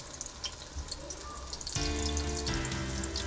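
Pakoras dropped one by one into hot ghee, the frying swelling into a loud, steady sizzle partway through, close and continuous with crackling bubbles.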